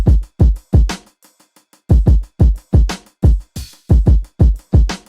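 Home-made drum break in 6/8 time, punchy booming kicks and snares in a lilting triple-feel groove, with a short sparse pause of light ticks before the pattern resumes, loud and close with no voices.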